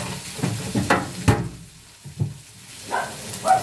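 Tofu fries in a pan for sisig, with a soft sizzle under irregular scraping and stirring bumps, close and moderately loud, and no talking.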